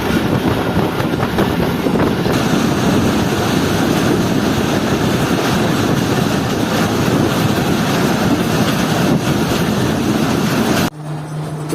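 Loud continuous rumble of the Karakoram Express rolling along the tracks, a dense rattling roar that holds steady before dropping away abruptly near the end.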